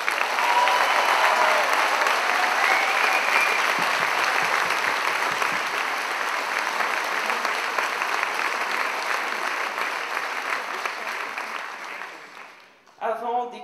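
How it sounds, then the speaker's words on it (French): A packed audience at a choir's centenary celebration gives a loud, sustained ovation for its president, dense clapping that gradually thins out before a voice speaks at the very end. "un tonnerre d'applaudissements pour Emmanuelle"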